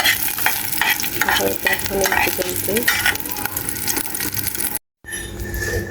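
Eggs fry in a pan while being stirred, a loud, close sizzle with busy scraping and clinking of the utensil, cut by a brief silent gap before the frying resumes.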